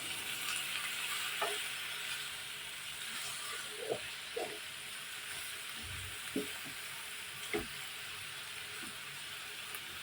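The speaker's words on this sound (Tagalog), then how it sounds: "magkulay brown muna tong karne bago ilagay natin yung ibang sangkap" Pork browning in a pan for menudo, a steady soft sizzle and hiss of frying meat with occasional faint knocks and stirring clacks, quiet and close, with no talk.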